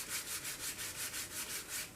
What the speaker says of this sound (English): I'm going to try sanding this.